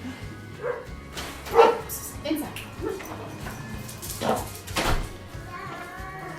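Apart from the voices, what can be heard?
dogs barking and whimpering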